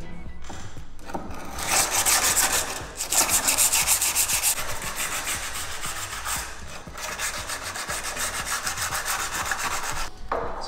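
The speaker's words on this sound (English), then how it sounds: "Different roughnesses of a sandpaper, because this needs to be properly polished" Steady back-and-forth rubbing of 80-grit sandpaper smoothing a part during a van solar panel lift build, a close, continuous abrasive hiss in sliding strokes with brief pauses and no talk.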